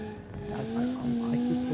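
A Ford Transit van brakes hard and power slides, its tires squealing in a rising, sustained whine over a rumbling engine, loud and close throughout.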